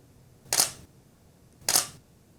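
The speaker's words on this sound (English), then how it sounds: "So this is the sound of the shutter speed" Two crisp camera shutter clicks about a second apart, close and clear against near silence.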